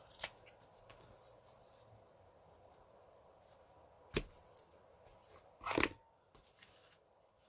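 Scissors trimming ribbon on a handmade card: a few quiet snips, one sharp cut near the middle and a louder crunching cut shortly after, over a soft near-silent room.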